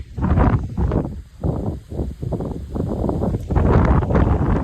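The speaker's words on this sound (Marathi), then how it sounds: "वारा सुटले लय भारी" Strong wind blows outdoors beside a house surrounded by trees, buffeting the microphone in loud, uneven roaring gusts that rise and fall throughout.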